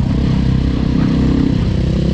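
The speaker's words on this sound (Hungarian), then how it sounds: "fékkel és gázzal, egyensúlyba tartva a motort" A DRZ400E motorcycle holds a slow wheelie on the balance point, its engine loud and close in a steady droning rumble, modulated lightly as brake and throttle are worked.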